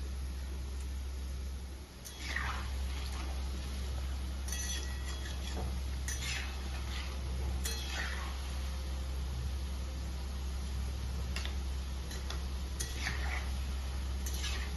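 Tal bora made from palm fruit batter being dropped one spoonful at a time into hot oil in a frying pan for Janmashtami, steady frying sizzle throughout with several soft splashy drops spaced every couple of seconds.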